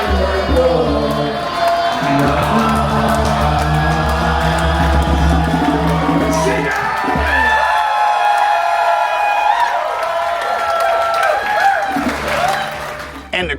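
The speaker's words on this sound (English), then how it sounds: "And the crowd went wild." A large audience cheers, whoops and applauds loudly and continuously after a music performance, with song and instruments still sounding under the roar at first, then crowd noise filling the rest.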